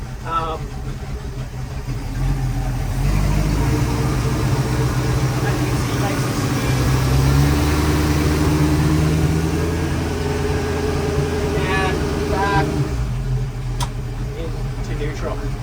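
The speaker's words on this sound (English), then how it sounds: "we'll start her up. So runs really well." A Maxum 2400 SCR boat engine cranks and catches, then settles into a steady low idle rumble; voices murmur faintly near the start and end.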